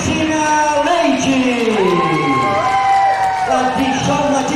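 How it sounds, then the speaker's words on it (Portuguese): A lively crowd at a contest awards ceremony cheers and whoops continuously, with excited voices and shouts layered over one another in a boisterous, sustained din. "Os aplausos, hein, gente?"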